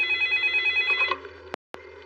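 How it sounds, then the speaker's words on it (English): A telephone rings in a steady repeating electronic trill, fairly close and clear, then stops; a couple of brief sharp clicks follow with a short dead silence between them. "a few minutes later, the phone rang"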